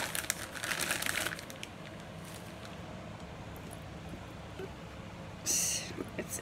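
A plastic drawstring bag holding a silicone makeup bag crinkles as it is handled, with a rustling burst at the start and a sharper crackle near the end over a quiet room hum.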